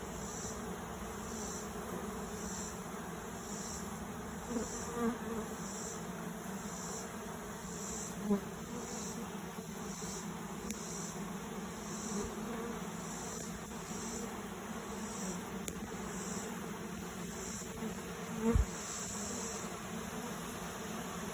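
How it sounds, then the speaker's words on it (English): Honeybees from a hive removed from an old barn on a 90+ degree August day, crowding a cooler; a dense, steady buzzing swarm close by with a few louder bumps and thuds. "I came back to check on the bees, and there was a bunch still in the cooler."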